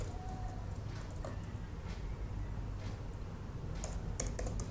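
Python code being typed on a computer keyboard, soft scattered key clicks with a few quick clusters of taps over a low steady hum, close and faint, without talk.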